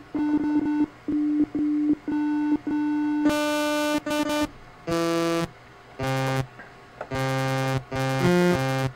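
Synthino XM groovebox bass track being recorded: a string of loud synth bass notes, short repeated tones at first, then longer held notes shifting in pitch, bright buzzy timbre, with no talking.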